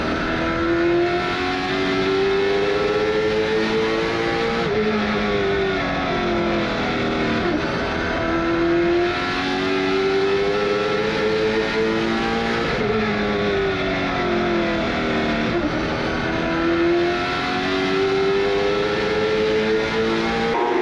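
Race car lapping the Tri-County racetrack, its engine loud and continuous with rising and falling pitch as it accelerates down straights and backs off into corners, repeating over several cycles.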